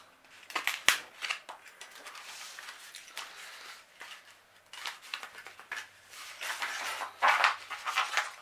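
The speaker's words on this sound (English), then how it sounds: "I like to use like an X-Acto knife or something, just so you can get a straight cut across" An X-Acto knife slicing across vinyl decal material, with soft scraping strokes, scattered light clicks and rustling handling sounds, close and fairly quiet.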